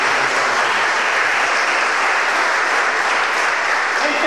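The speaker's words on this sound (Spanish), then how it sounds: "Damos esa ofrenda de palmas a Dios, al Rey de Reyes." A church wedding congregation applauds in a sustained, dense burst of clapping that stays steady and close throughout, with a voice faintly present beneath it.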